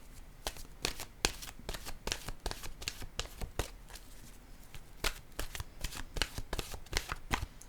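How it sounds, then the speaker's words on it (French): Oracle cards being shuffled and drawn, a rapid series of crisp riffling bursts and soft papery slaps repeating steadily throughout at close range, with no talking. "Je vais piger une carte de mon oracle de l'âme intuitive."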